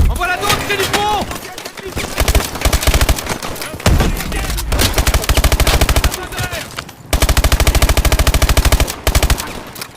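Rapid machine gun fire in Call of Duty: Advanced Warfare during a mission in Lagos, loud sustained automatic bursts broken by brief gaps, with game noise and shouts mixed in.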